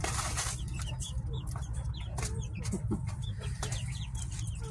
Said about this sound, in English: Hi, Rooster Huey